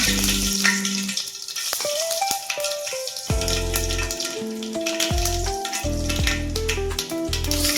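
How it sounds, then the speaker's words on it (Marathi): Steady crackling sizzle of mustard seeds popping in hot oil, continuous and fairly loud, with tonal hums layered underneath. "आता आपण ह्याला फोडणी देणार आहे"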